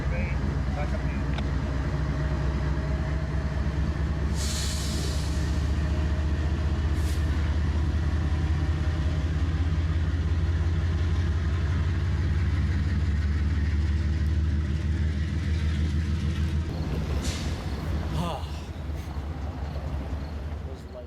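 A freight train backs up through a rail yard in Massena, New York, its heavy low engine drone steady and close throughout, with a brief hiss of air brakes near the start and again toward the end.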